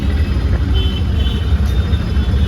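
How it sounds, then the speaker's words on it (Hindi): Steady road traffic rumbles on a busy street, a dense low drone of trucks and cars passing close by, continuous and fairly loud with no talk. "मैं तब से चल रही हूँ और ये ट्रैफिक खत्म होने का नाम ही नहीं लेता।"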